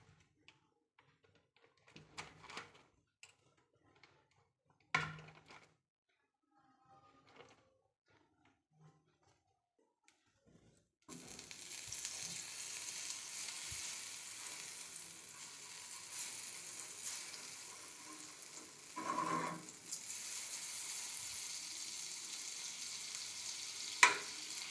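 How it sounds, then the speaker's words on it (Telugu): Butter melting and sizzling in a non-stick pan on a stove, a steady frying hiss that starts abruptly about halfway through and keeps going at moderate level, after a few quiet clinks and handling sounds. "బటర్ బాగా మెల్ట్ అయిందండి"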